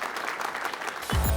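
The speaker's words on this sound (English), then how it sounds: "A huge round of applause for Bhavish Agarwal." Audience applause for Bhavish Agarwal at Ola Electric's Green Bharat event, steady clapping throughout, swelling with a louder burst near the end.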